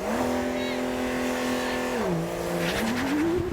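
A Porsche 911 and a Cybertruck launching in a drag race, a sustained, rising engine and motor tone with a dip partway through, loud and continuous alongside spinning tires.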